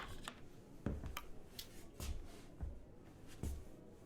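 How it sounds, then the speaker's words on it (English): Soft, muffled footsteps climbing wooden stairs in The Pale Beyond, a slow, evenly spaced series of faint thuds with light creaks, quiet and somewhat distant. "You hear footsteps climbing the stairs that brought you here"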